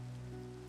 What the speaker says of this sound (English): it seems like it's always like raining in this dimension